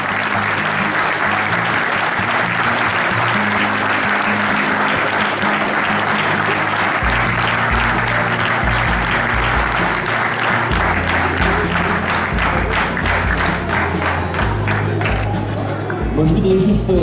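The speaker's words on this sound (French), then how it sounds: "On peut applaudir très fort." Sustained, dense applause fills a hall at a Charolais cattle show in Saint-Gervais-d'Auvergne, many hands clapping evenly with a low hum beneath, the clapping thinning slightly near the end.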